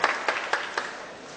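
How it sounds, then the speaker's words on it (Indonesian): Audience applause for Betawi at an Indonesian organisational gathering, a short burst of clapping with several sharp swells that fade quickly, fairly close and alone without talk. "Tepuk tangan untuk Betawi."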